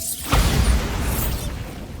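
A Bombarda spell blast in Hogwarts Legacy erupts as a loud, booming burst with a sharp onset, then rumbles and crackles on for about two seconds before slowly easing off.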